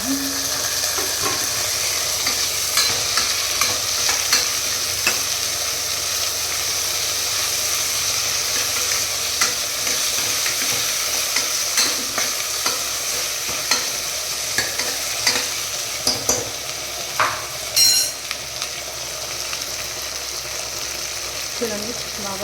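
Tomato pieces fry in a pan with a continuous soft sizzle as a spoon stirs and scrapes in irregular knocks, close by and moderately loud, with a brief cough-like sound near the end.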